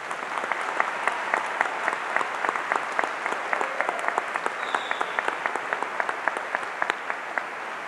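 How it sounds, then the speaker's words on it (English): Steady applause from a large audience honoring graduates at a 2022 high school graduation ceremony, dense overlapping claps sustained evenly throughout at moderate distance with no speech. "Let's give them all a huge round of applause."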